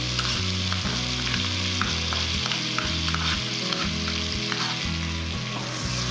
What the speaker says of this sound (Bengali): পেঁয়াজ রসুন খুব ভালো করে কিন্তু কষাতে হবে।